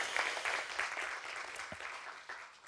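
Moderately quiet applause from an audience at a university alumni-of-the-year ceremony, steady at first and then thinning and tapering off.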